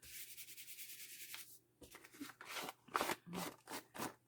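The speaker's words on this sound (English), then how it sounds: "rub my ink pad on there just to pick up" Close scratchy rubbing of an ink pad across the edges of book pages, several short brisk strokes in a row with brief pauses between them, quiet and without talk.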